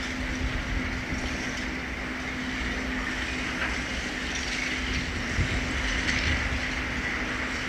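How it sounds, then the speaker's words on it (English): A London Overground train departs Willesden Junction on the West Coast Main Line, a steady rumbling drone with a faint hum and soft rail clatter running continuously throughout, with no one speaking. "now departing is the 1231 London Overground service from Richmond to Stratford"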